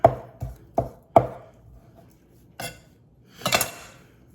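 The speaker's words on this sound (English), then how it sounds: "2 strips of bacon. We're just going to cube these up." A knife cubes two strips of bacon on a cutting board: four crisp chops come in quick succession, then after a pause a few closer, scrappier cuts follow.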